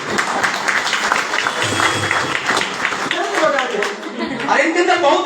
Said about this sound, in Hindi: वो ताली बजाई इसके लिए जोरदार ताली